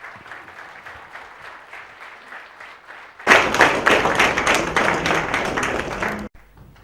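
A softer patter of clapping swells into loud, full audience applause that lasts about three seconds, then stops abruptly.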